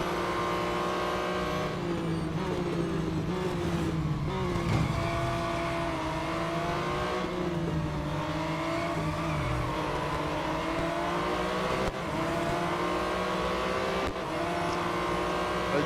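Race cars in a Real Racing 3 race roar continuously, engines revving up and down through gear changes, with other cars passing close by and occasional tire squeal.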